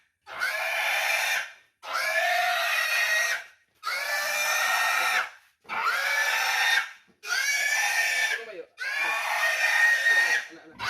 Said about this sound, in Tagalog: nabinta na po yung baboy ni Ma'am Josie